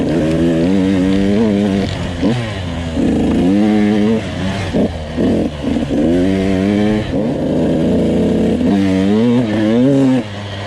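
A Husqvarna TC 85 motorcycle with poor jetting revs loudly and nearby, its engine note rising and falling repeatedly in uneven, stuttering bursts over about ten seconds.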